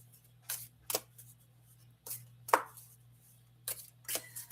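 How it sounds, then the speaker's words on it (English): Playing cards are shuffled and tossed down in a series of brief crisp riffles and slaps, spaced irregularly over a faint steady hum. "Start throwing cards all over the place."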